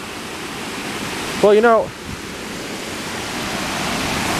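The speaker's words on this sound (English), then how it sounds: "it's not much of a dam if the water gets over the sides" Water pours over an old country dam at Beaver Dam Marsh in Natchaug State Forest, Connecticut, a steady, close rush that runs the whole time, with a person briefly speaking over it.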